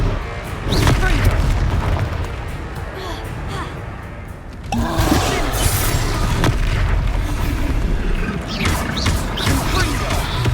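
Repeated Confringo explosion spells go off in Hogwarts Legacy on Xbox Series X, heavy booming blasts with crackling debris, one big burst midway, mixed with game effects and no clear speech.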